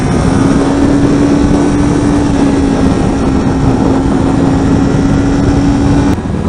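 Kawasaki Ninja 400 or Z400 motorcycle engine held in second gear through corners, a loud steady drone with a sustained even tone running unbroken for about six seconds before cutting off.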